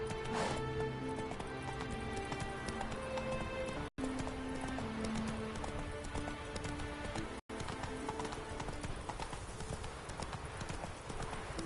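Horse hooves galloping in the video game Witcher 3, a steady rapid clip-clop running throughout, close and fairly loud over a layer of game music, with two brief dropouts.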